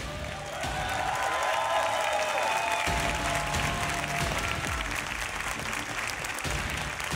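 Loud, sustained applause and cheering from a large esports arena crowd after the Rainbow Six Siege world championship final, a dense wash of clapping with faint voices mixed in throughout.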